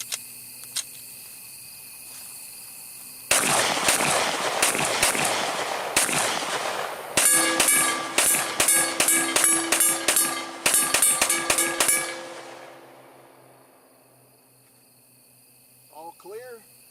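A Glock pistol fires at an outdoor range using Amend2 aftermarket 34-round magazines: a loud, close string of sharp shots, first spaced, then rapid volleys, ending with a quiet tail.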